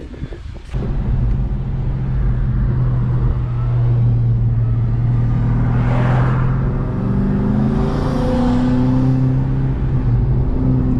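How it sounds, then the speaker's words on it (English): A Dodge Hellcat holds a loud, steady high-rev roar during a small burnout, with the engine note droning continuously and climbing slightly near the end, close up and without talk. "I want to do a small burnout and then we change that thing"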